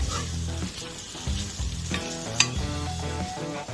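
Chicken fried steak frying in a pan on low heat gives a continuous crackling sizzle, close and steady, with faint scrapes and stirring sounds and no talking.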